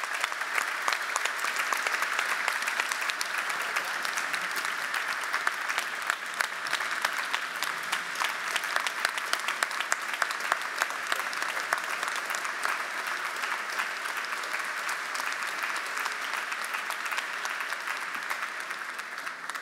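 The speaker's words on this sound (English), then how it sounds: "let's give Coach Williams a round of applause for all of his accomplishments" A gala audience at a university athletics hall of fame event gives a sustained round of applause, a steady dense wash of clapping that holds evenly for about twenty seconds without talk.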